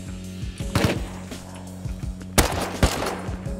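Thompson submachine gun fire in the survival game Rust, loud close bursts of rapid shots with a couple of sharp single cracks, no talking.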